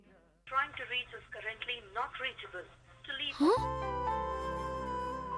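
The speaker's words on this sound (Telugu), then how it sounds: "కాలర్ ట్యూన్ కూడా ఈ పాటే పెట్టుకున్నాడా?" Voices talk for a few seconds, then a steady musical tone starts and plays on without pause, like a phone ringback tune.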